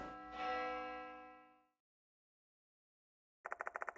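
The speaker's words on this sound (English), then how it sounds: "That bell again." A bell rings in the horror game Spirit Hunter: Death Mark 2, one resonant strike decaying over about a second and a half, then silence, followed by a quick run of rapid, evenly spaced chimes.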